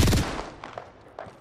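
Gunfire in an Apex Legends match, a loud rapid burst of close shots at the start followed by a few scattered, fainter single cracks.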